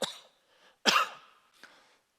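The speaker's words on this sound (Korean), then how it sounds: "기침을 하기가 얼마나 조심스러운지 몰라요. 기침을 하면 자꾸 쳐다봐가지고." A person in a church setting with mild asthma and allergy gives three close coughs, two sharp and a fainter third, in an otherwise quiet room.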